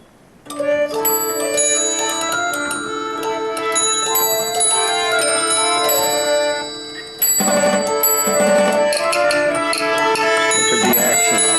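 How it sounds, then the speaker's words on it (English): An antique mechanical music machine with music box, drums, woodblock, bells and organ pipes plays a bright, busy tune, chiming bells and pipe tones ringing loudly with percussion, briefly pausing midway before starting up again. "it has a music box and the drums, the woodblock, bells, and then there's organ pipes in the front here too"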